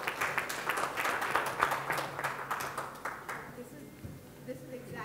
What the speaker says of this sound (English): Give a round of applause and you can sit down.